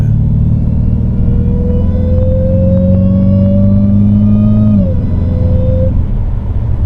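A 2015 Dodge Challenger Hellcat gives a loud, deep engine roar rising steadily in pitch as it accelerates at quarter throttle, then dropping off near the end.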